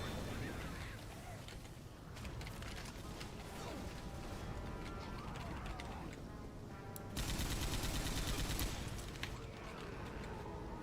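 AK rifle fire in a zombie shooter game, dense sustained automatic bursts with a louder, harsher stretch near the end, continuous and close with no clear talk.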